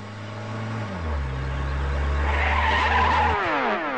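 A car brakes hard to a stop at a gate, tires skidding and squealing with engine tones dropping, a loud close screech that builds and then ends.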